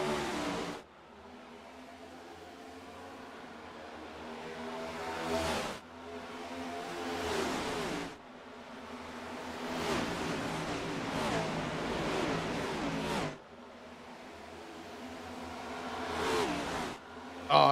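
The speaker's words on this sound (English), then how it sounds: "I love hearing those engines coming around the corner" Racing car engines in a video game of an oval race at Auto Club, sustained roaring drones that swell and fade in long sweeps as cars pass, with brief breaks between runs.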